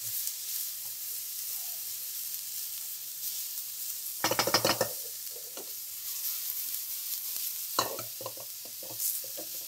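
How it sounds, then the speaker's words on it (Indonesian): Sliced carrots are stirred in a frying pan, a soft sizzle running underneath while a few sharp bursts of spatula scraping and clatter come through near the middle and end. "kita masukkan wortel. Wortel dulu ya, Mam, karena wortel yang paling keras di antara semua sayuran yang kita pakai hari ini."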